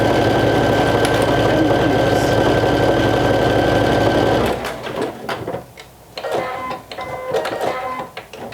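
Sewing machine basting a bib onto a vintage jumper skirt, a fast steady close-up whirring stitch for about four seconds, then stopping, followed by scattered handling noises.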